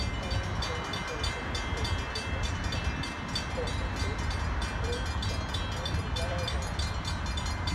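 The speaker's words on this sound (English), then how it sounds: "Metro Rock Island, train 403 approaches Longwood Manor, descending Gresham Junction off the hill." A Metra Rock Island commuter train led by a heritage-unit locomotive rumbles steadily in the distance near Longwood Manor, a low continuous roar with faint rhythmic clatter, gradually present throughout without any voices.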